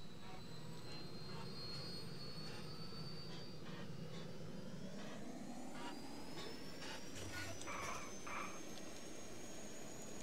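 Jet airplane engine roaring during takeoff in the video game Just Cause 2, a faint steady whine and rumble that rises gradually in pitch, with someone talking intermittently over it.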